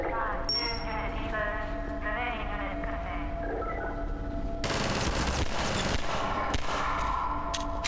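Assault rifle fire in Half-Life 2, a burst of rapid loud shots cutting in midway over background game sounds and music, with someone talking during the clip.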